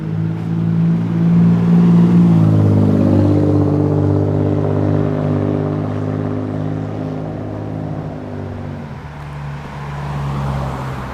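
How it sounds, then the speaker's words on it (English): A nearby car engine revs up loudly, holds, then winds down and fades, with traffic rumble continuing underneath. "I'm hearing all these engines revving"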